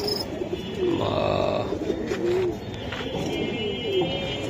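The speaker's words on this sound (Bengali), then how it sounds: "এটা ওয়ারির ফয়সাল ভাই অ্যালুমিনিয়াম কবুতর।" Silver Giribaz pigeons coo at a market stall, several distinct rolling coos rising and falling one after another, close and moderately loud over steady background noise.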